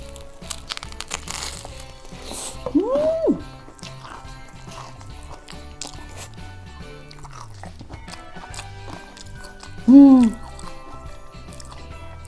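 Bites and chewing of a homemade kimchi pizza on sliced bread with stretchy melted cheese, soft and close, with two short voiced murmurs over a faint steady background.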